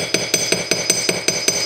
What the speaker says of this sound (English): I'm going to now start to harden this by panishing it a bit with my panishing hammer